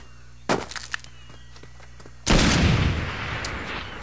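Gunfire in the video game Far Cry: a few sharp shots, then a heavy burst that trails off into a long rumbling decay, with faint clicks and a low hum beneath.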